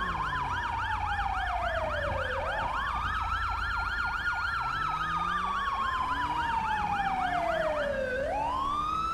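An ambulance siren in GTA V with the LSPDFR police mod wails and yelps continuously. A rapid warbling tone sweeps into long rising and falling wails, loud and steady throughout.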